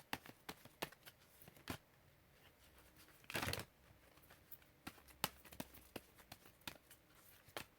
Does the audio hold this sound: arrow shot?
no